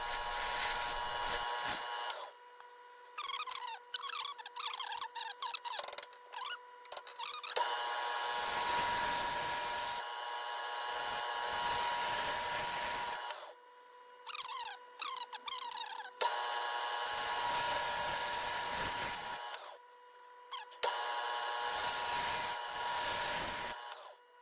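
A bowl gouge makes push cuts on a walnut bowl spinning on a wood lathe, giving loud, sustained, rasping bursts of cutting noise separated by quieter pauses.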